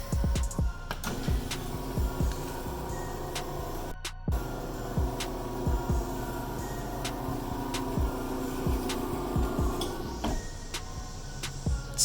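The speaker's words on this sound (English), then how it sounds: "Now let's run it back open and see if it bumps into the stopper bolt." A Chamberlain LiftMaster garage door opener runs the door open with a steady mechanical hum and drone, scattered clicks and ticks throughout, and a brief cut near the start.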